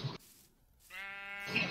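A goat bleats in the Minecraft video game, a short clear nasal bleat following a quieter burst of sound, with no speech.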